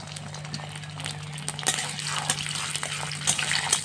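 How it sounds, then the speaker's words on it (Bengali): Washed chapa shutki dried fish dropped into a hot pan, giving a steady watery sizzle and crackle with a few sharper spits, close and fairly loud. "এবার দিয়ে দিচ্ছি ধুয়ে রাখা চাপা।"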